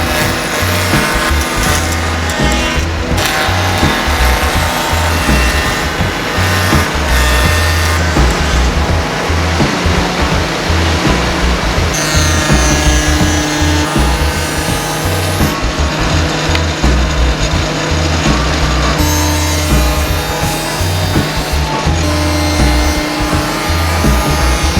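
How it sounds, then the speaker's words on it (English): Power tools cut tongue and grooves into wooden rails and stiles for an umbrella stand, a loud continuous machining roar with rhythmic variations from repeated passes, lasting throughout with no talk. "I moved on to cutting all the tongue and grooves, as well as tapering the bottom legs."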